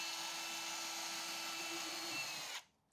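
A power drill bores through a freshly built garage wall, likely with a hole saw through drywall. It gives a steady, close, high-pitched whine for about two and a half seconds before stopping abruptly.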